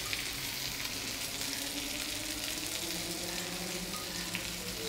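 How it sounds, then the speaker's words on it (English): Steady, crackling sizzle of lady fish frying in hot coconut oil, a continuous close hiss with faint bubbling and no voices. "I'm using coconut oil for frying."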